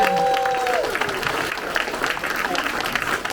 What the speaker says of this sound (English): it's a big round of applause for you